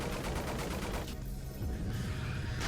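Rapid gunfire in the Nightmare House horror mod starts as a fast regular burst of shots, then breaks into dense rumbling noise and a later sharp report, all fairly quiet and muffled.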